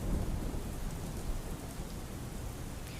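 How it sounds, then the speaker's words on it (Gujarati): Rain falls over Bhavnagar as a dense, steady outdoor wash of noise with a heavy low rumble beneath, unbroken and even throughout, with no voices. "શહેર સહિત ગ્રામ્ય વિસ્તારોમાં છૂટો છવાયો વરસાદ વરસ્યો છે"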